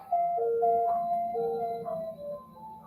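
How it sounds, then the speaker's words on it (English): A distant ice cream truck plays its tinkling melodic jingle from outdoors, the tune steady and faint behind the room. "I'm sure you guys can hear the ice cream truck in the background."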